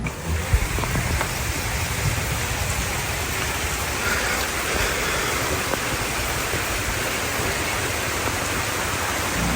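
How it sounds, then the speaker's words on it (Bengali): Heavy morning rain falls in a forest at a Sylhet jungle resort, heard as a broad, constant wash of noise that holds steady throughout, with no voices. "মর্নিংয়ে প্রচণ্ড বৃষ্টি পড়তেছিল বুঝাতে পারবো না এই জঙ্গলের মধ্যে"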